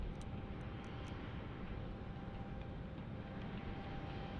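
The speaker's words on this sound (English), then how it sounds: "This E-175 getting ready to block out." An Embraer E-175 airliner gets ready to push back at Tucson International Airport, giving off a faint, distant, steady jet-engine hum with no breaks.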